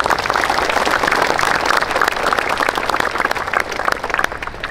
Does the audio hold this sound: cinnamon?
no